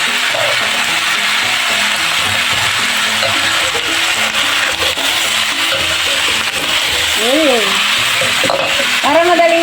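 Garlic stalks stir-fry in a hot pan with a steady, loud sizzle throughout, while a utensil scrapes and stirs in a continuous rhythm, and a few faint high chirps rise near the end.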